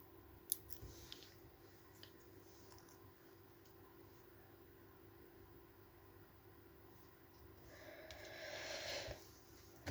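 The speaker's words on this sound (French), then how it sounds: "Et ça se coupe avec tous les ciseaux" Scissors snipping through paper envelopes, a few faint crisp clicks early on and a brighter rustling cut near the end, quiet and close with low background hum and no talk.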